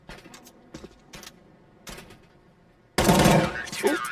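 Counter-Strike: Global Offensive gunfire in a BIG vs Sinners ESEA match: a few sharp, spaced shots, then a dense, loud burst of rapid fire over a low rumble.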